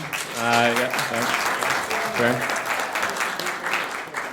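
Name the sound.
audience applause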